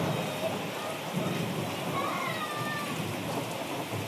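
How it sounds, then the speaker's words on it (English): Steady rain pours outside during a Friday the 13th horror movie scene, a constant hissing wash with a faint low rumble, with people talking quietly over it. "It's too rainy outside."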